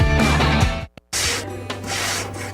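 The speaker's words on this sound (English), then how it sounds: "This isn't just the sound of a legendary Brunswick pool table." Balls roll across a Brunswick pool table in a close, rushing rumble, break off for a moment, then sweep across the felt again, with no talk.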